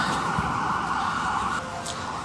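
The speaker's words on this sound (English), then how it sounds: "sorry, you probably don't want to hear all that ambulance noise." An ambulance siren wails steadily outdoors, its sustained tone holding strong and loud for a couple of seconds before dropping slightly as it moves past.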